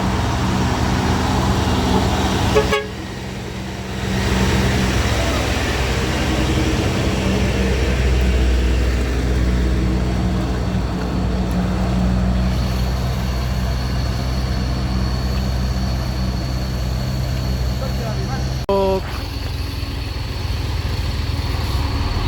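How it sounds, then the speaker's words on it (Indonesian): A heavy Hino truck engine rumbles loudly and continuously while towing a stuck Fuso truck on a hill, with a brief clank and shift in tone early on and another mechanical jolt near the end. "Hino ini akan menarik truk Fuso yang nyangkut di sini."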